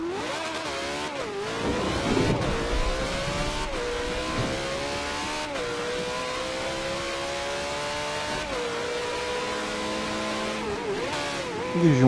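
A car drives in Forza Horizon 2, its engine climbing through revs with several gear shifts and repeated rising pulls. Under it runs a steady road rumble and an occasional tire squeal.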